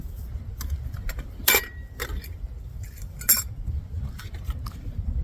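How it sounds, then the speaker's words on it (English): Metal pieces of a Stanley cook kit clink and jangle as it is unpacked on a hike. The contact is close and fairly quiet, with two sharper clanks standing out among scattered small rattles. "So we've got our Stanley Cook kit, so let's go ahead and dig into that."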